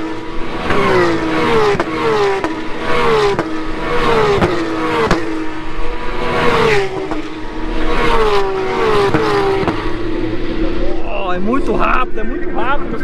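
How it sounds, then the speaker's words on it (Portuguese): Porsche Cup race cars roaring past on a Brazilian circuit, a steady run of loud engine notes rising and falling as each car sweeps by, with a voice talking over the din. "Escutar o barulhão, o roncão bonito desses carros."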